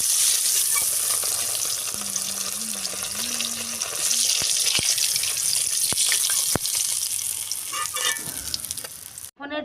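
Fish head frying in hot oil in a pan gives a loud, steady sizzle and crackle with occasional utensil clicks and scrapes, close up with no talking.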